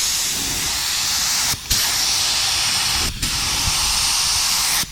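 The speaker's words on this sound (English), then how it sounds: "I want to spray this clear on the car" Loud, continuous hiss of a spray gun spraying clear coat on a car's rocker panels, broken by two brief pauses as the trigger is released, then resuming.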